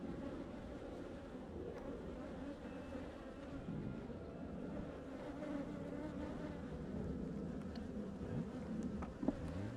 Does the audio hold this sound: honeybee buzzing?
yes